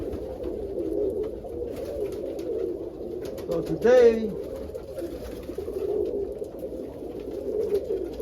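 A pigeon gives a single clear coo partway through, close and distinct against a low background murmur, while a person talks briefly nearby.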